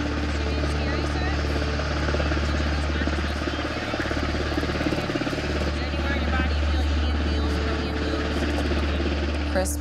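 A Coast Guard rescue helicopter at an ATV accident scene in Alaska runs with a steady, loud rotor thump and turbine whine throughout, while people talk nearby.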